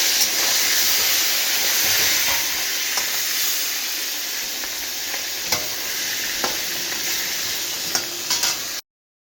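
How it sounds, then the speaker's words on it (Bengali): Pieces of catla fish fry in a hot pan, giving a steady, loud sizzle and hiss throughout with occasional small pops and crackles, no voices. "এখানে হচ্ছে মাছ ভাজা।"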